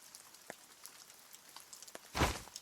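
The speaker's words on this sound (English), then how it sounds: "The scent of rain tapping at stone bricks." Light rain taps on stone bricks: sparse scattered drops over a soft background hiss, with one louder splash near the end.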